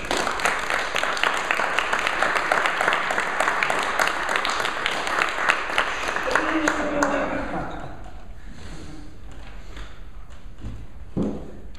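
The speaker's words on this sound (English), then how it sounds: "Can I have a warm round of applause for David Marks?" Warm applause from an audience greeting David Marks at a presentation on Ireland's Ardnacrusha electrification, a steady dense clapping for about seven seconds that thins out, with scattered voices and a few thumps toward the end.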